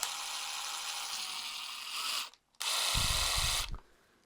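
A Bosch GDR 12V-110 cordless impact driver whirs at high speed under low load without impacting, stops briefly, then runs again with a lower rattling hum before cutting off.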